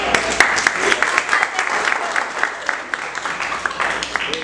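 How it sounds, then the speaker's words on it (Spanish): A church discipleship class applauds to welcome Ronald, a loud burst of close clapping from a small gathering, with individual claps standing out and a voice speaking over it. "Un aplauso por Ronald."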